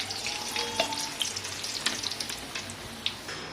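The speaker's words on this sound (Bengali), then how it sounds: "এই যে পরোটাটা ভাজা হয়ে গেল।" Medium-sized paratha fries in hot oil, giving a continuous bubbling sizzle with sharp crackles and pops scattered throughout, close and fairly loud.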